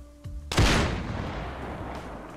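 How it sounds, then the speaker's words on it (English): A loud gunshot from a firearm in the video game DayZ, one sharp close blast followed by a long rumbling echo that slowly fades. "Damn, your gun's loud, bro."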